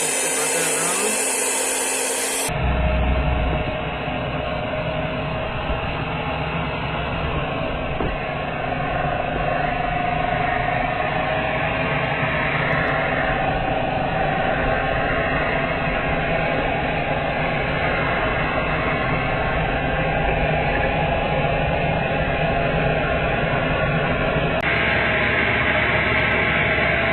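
An electric mixer whirs continuously as butter is mixed for a butter cake batter, a loud, steady motor drone lasting throughout with little variation.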